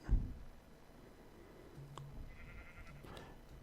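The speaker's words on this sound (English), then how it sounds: "It's a sheep, not a cow." A sheep in the modded Minecraft pack FTB Infinity Evolved gives a few short faint bleats, heard alongside soft in-game clicks over a quiet background.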